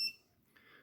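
A VIFLY Beacon lost-drone buzzer mounted on a Skydio 2 gives one short, shrill beep at the very start, then falls to near silence before a fainter high tone returns.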